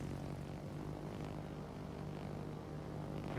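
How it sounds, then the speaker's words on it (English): Steady droning propeller engines of fighter planes launched from the aircraft carrier Essex in World of Warships, a continuous even hum with no gaps. "We can still get some fighter planes out for the Essex"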